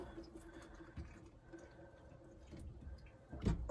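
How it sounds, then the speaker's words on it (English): Fruit such as grapes and apples is rinsed under a running kitchen tap after a vinegar wash, soft trickling and dripping water that swells into a brief louder splash near the end, quiet and close. "give these a really good rinse just to make sure there's no vinegar on them"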